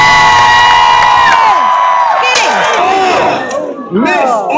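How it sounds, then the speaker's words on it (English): Spectators at a fair joust cheer and shout loudly, whoops and children's cries layered into a dense, close roar that dips briefly near the end. "The crowd goes nuts!"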